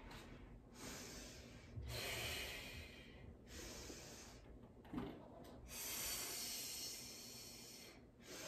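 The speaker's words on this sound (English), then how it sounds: "You hear my breathing on that." Heavy, rhythmic breathing from someone doing a Pilates mini ball workout, with several long, close breaths of effort in and out over a quiet room.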